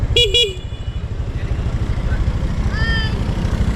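Motorcycle engine running steadily and close, a continuous low throbbing rumble, with a short horn-like tone early on and brief higher squeaks near the end.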